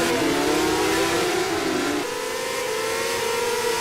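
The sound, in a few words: racing car engine from a video game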